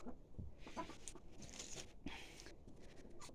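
Soft clucking from a few young roosters, faint and scattered, with light rustling in a quiet pen.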